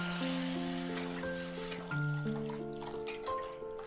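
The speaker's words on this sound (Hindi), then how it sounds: "मसाला भुना गया है, अब इसमें पानी डालें।" Water pours into fried spice masala in a pan while cooking arbi curry, a faint continuous trickle with some sizzling under faint background tones, no voices.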